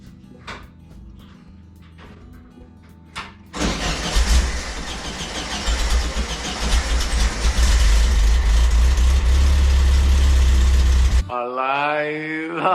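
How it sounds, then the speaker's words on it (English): An old VW Thing engine, fed a little ether, cranks and fires for the first time in 40 years. It catches abruptly and settles into a loud, steady, rough idle that runs for several seconds before cutting off, and a voice follows. "First time in 40 years if it starts up."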